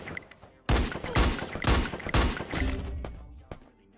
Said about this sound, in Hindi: यहाँ पे मैंने 4 गोली चलाई, जिनमें से एक गोली उस बंदे के लगती है और बाकी 3 गोली पैन पे लगती है